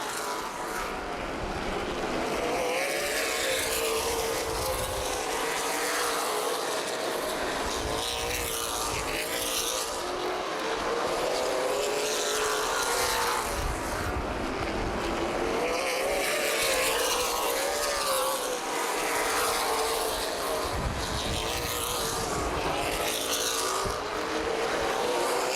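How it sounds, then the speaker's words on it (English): Stock race cars in a CRA Super Series 125-lap event circle the tight quarter-mile oval at Anderson Speedway, a loud continuous roar of several engines rising and falling with no voices. "Not a lot of racing room out here on this tight quarter-mile racetrack at Anderson Speedway."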